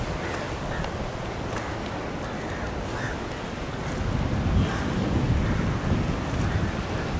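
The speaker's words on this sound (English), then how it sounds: "I like how the waves break just out there." Ocean surf breaks just offshore from a beach at a Sri Lankan resort, a steady broadband wash swelling louder in the latter half, with wind buffeting the microphone throughout and no talking.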